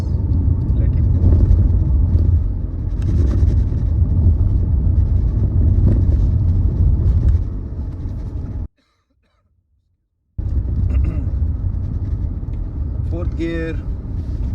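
A car drives on an Indian road, its engine rumbling low and steadily with road noise, then the sound cuts out for a moment and returns, with a cough or throat clear near the end.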